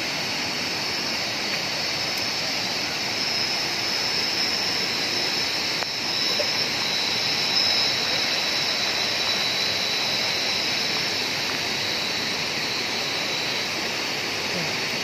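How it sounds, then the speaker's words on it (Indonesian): Waitasoi river flowing at night, a continuous broad rushing wash of water that holds steady at moderate loudness throughout, with faint background ambience and no clear voices. "Menikmati malam di sungai Watasoi."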